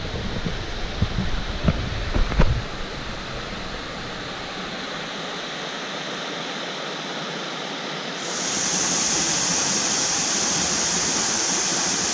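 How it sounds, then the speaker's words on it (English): A loud, continuous rush of falling water fills the scene, steady and broadband, with a thin high whine joining partway through. "Another cool looking waterfall"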